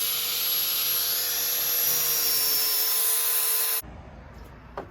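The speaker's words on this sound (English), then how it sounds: "a mild grinder and clean up some of these" An angle grinder scours corrosion and old rubber buildup off a coolant hose fitting on a Shelby Dodge Daytona, giving a loud, steady abrasive whine that cuts off sharply near the end, leaving quieter shop noise.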